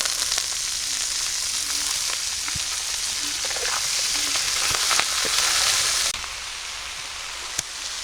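Leafy greens, red amaranth and spinach, hit hot onion, garlic and chili oil in a pan, giving a loud, continuous close-up sizzle and crackle that eases slightly near the end.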